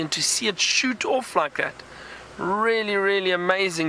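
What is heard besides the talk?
No everyday noise stands out behind the speech.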